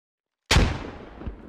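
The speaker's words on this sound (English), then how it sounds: "More frags being thrown." A single loud frag grenade explosion in a video game battle, a sharp close blast after silence, trailing into a rumbling decay with a faint second thump.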